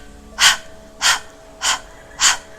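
Four forceful open-mouth yoga exhales with the navel drawn toward the spine, breathy bursts evenly spaced about half a second apart, close and alone.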